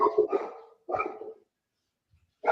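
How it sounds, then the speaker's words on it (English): A dog barks in two loud, close bursts with a gap between them, sounding oddly echoey as if in a reverberant room, during a live talk show. Another bark begins right at the end. "your dog sounds like she's in an echo chamber"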